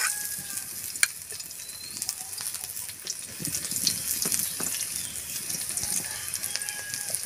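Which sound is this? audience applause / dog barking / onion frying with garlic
onion frying with garlic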